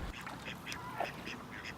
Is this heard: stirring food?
no